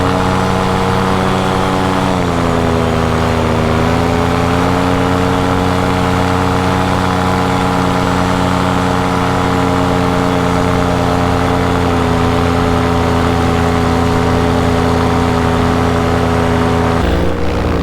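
Steady droning propeller-plane engine heard from inside the cabin, constant and loud throughout with a slight pitch shift partway.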